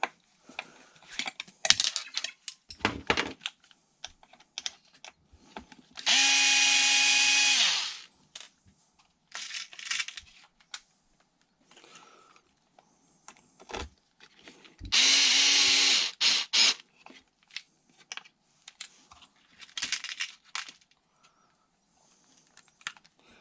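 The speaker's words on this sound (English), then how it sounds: "Countersink." Two long bursts from a power drill countersinking a hole for a battery tray on an RC car, loud and close, with clicks and handling noises between them.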